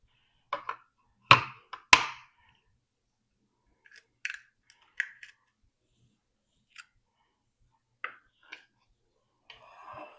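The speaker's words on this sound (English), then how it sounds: "I'm going to crack 6 eggs." Six eggs are cracked one by one into a measuring cup, giving a series of sharp, close taps and cracks spaced across the clip with quiet gaps between them.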